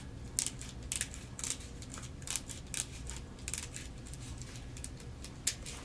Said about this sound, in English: you can use your crinkle scissors and just cut out an oval shape for your cat head